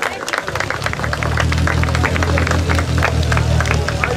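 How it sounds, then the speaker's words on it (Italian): Spectators applauding at a mountain slalom car race, scattered claps over a loud, steady low engine hum, with crowd murmur throughout. "Applausi signori, sono le ultime curve."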